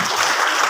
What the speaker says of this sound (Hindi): जोरदार तालियां गौरव जी के लिए